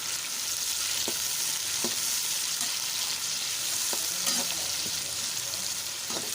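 Tomatoes and green chillies frying with browned onions for a fish curry, a constant loud sizzle with occasional stirring scrapes and clinks, close and unbroken.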